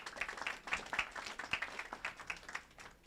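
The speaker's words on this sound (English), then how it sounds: "Let's give a round of applause for everyone who helped put on this event." Scattered applause from a modest audience at a hardware tech meetup, with fairly sparse, distinct claps in an uneven rhythm, faint and somewhat distant, lasting about three seconds.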